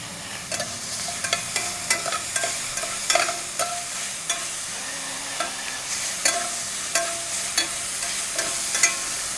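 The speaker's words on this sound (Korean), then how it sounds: "이렇게 고기가 구워지면서 바닥에 살짝 이렇게 눌어붙는 것들이 생기거든요" Pork sears and sizzles in a pot as a spoon stirs it repeatedly for gochujang stew, with a steady frying hiss broken by frequent sharp scraping clicks of the utensil against the pot bottom.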